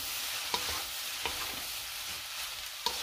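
Food frying in a pan gives a constant soft sizzle, with a few sharp clinks from stirring scattered through it, close by and without talk.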